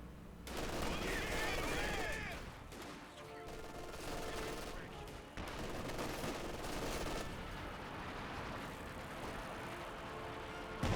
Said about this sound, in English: Pack howitzer firing white phosphorus into his base.